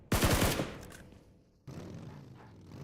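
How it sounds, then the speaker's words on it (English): Gunshots in PUBG Mobile during a competitive esports match: a rapid burst of close, loud shots, followed after a pause by softer, more distant firing and ambient rumble. "One shot over towards them."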